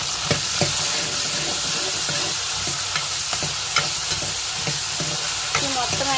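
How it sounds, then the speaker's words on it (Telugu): Ivy gourd (dondakaya) fries in a pan for chutney, a steady close sizzle broken by repeated stirring scrapes and clinks, with no talk. "దొండకాయ పచ్చడి అంటే ఈ ఫ్రై చేసేసుకున్నాం"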